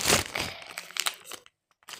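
Close, crisp crinkling of a plastic package bag being handled during unpacking, with dense bursts of rustle for about a second and a half, then a pause and a brief final crackle.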